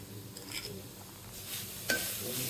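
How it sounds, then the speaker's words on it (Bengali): Coconut and sugar filling for puli pitha cooking in a pan makes a soft, faint sizzle with scattered stirring scrapes and a sharper clink near the end, and no voices. "আমাদের নারকেল একটু ফ্রাই হয়ে এসেছে"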